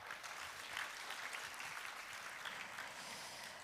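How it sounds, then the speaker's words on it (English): Audience applause at the Seoul Defense Dialogue 2023 plenary session, welcoming the moderator: steady, dense clapping from a large seated crowd filling the hall evenly throughout. "Please welcome him with a big round of applause."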